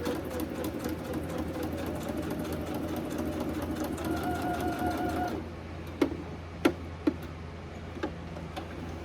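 A sewing machine runs steadily through a test stitch at setting 5, a dense mechanical whir for about five seconds, then stops. A few sharp clicks and taps follow in the quiet afterward.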